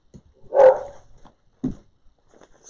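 A single dog bark, fairly close, followed by a softer short yip in an otherwise quiet room.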